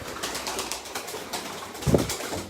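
Pigeons for sale, including a young grey bird, rustle and flap softly nearby, with a brief louder flutter near the end and no voices.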